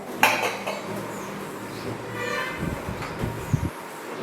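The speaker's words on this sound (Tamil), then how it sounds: "எண்ணெயை ஊற்றி பிசைஞ்சுக்கிறோம்" A spoon scrapes and clinks against a vessel as lemon pickle is worked together with poured oil, made from lemon pieces with asafoetida, mustard powder, fenugreek powder and salt. The clatter is close and irregular, with soft rubbing between strikes.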